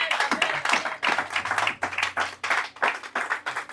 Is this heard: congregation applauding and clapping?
yes